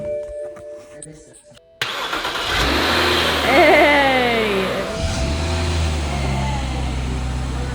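A BMW car engine, a wrecked car being repaired, cranks and catches, then revs up loudly with rising and falling pitch before settling into a steady idle, close by, with background voices.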